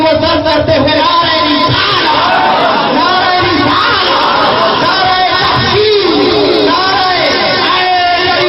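A large crowd chants the religious slogan Nara-e-Takbeer together, a loud, dense roar of many voices filling the space continuously from start to finish.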